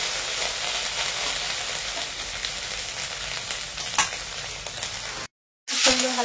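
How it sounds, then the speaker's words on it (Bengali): Potatoes and eggplant fry in hot oil while being stirred, a steady loud sizzle and hiss with scraping of the spoon, cut by a short silence before the sizzling resumes. "এবার আলু আর বেগুনটা দিয়ে দিচ্ছি বন্ধুরা। দেখুন ভালো করে নেড়ে চেড়ে ভেজে নেওয়া হচ্ছে।"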